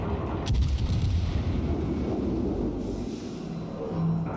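Heavy naval gunfire in World of Warships, from a Hindenburg cruiser engagement, forms a dense, continuous rumbling roar of booming shots and impacts that stays loud throughout, with no talking over it.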